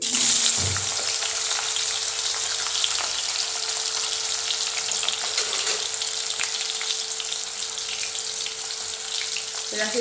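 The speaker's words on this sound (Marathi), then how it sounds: "आपण केळी फ्राय करून घेऊया तेलामध्ये" Raw banana pieces frying in hot oil, producing a constant, dense sizzle close to the pan that carries on steadily throughout with no one talking.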